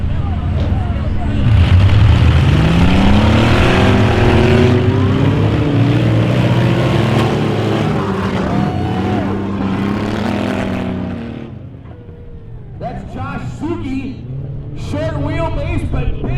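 Race cars at a Hardwater ice racing event, engines roaring loud and close with rising and falling revs through most of the stretch, then easing off while a voice talks over the din.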